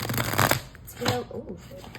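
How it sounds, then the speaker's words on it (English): A quick riffle of tarot cards being shuffled up close, a brisk papery flutter followed by softer shuffling, with a voice briefly audible underneath. "That was a very messed up way to shuffle."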